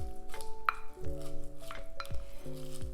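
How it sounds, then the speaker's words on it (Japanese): Fermented hishio seasoning is spooned into a homemade side dish, giving soft wet squishes and light clinks of utensil against the pot, close and fairly quiet, with no talking. "ここにですね、ひしおを入れていきます。"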